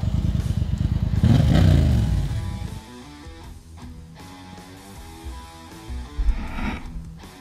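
A heavy Yamaha Super Ténéré adventure motorcycle revs loudly and close while stuck in a river, its engine straining hard before dropping off into lighter clatter and intermittent splashing sounds.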